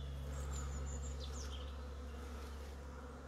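Honeybees buzz as they fly in and out of a backyard hive, a steady low hum with a few brief higher-pitched passes close by, continuous and free of talk.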